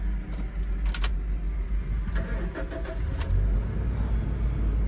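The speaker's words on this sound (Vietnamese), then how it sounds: "Sau đây em sẽ nổ máy lên này." A 2006 Toyota Innova G engine cranking and starting, with clicks and clunks from the cabin followed by a steady low engine rumble settling into idle, close up and without talk.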